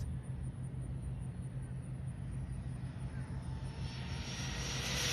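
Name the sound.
Rlaarlo X12 RC car motor driving on 3S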